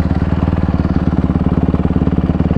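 A motorcycle engine braking at a riding lot gives a steady, rapid low pulsing thrum, close and loud, with regular firing beats throughout and no talk over it.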